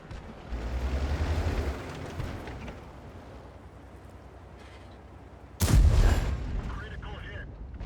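Artillery fire in a tank video game on the Lakeville map: a low, rumbling barrage of distant shelling rolls through the first seconds, then a sudden loud, close blast bursts near the end and rings out.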